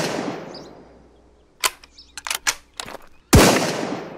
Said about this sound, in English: Let's see if we can snipe that guy.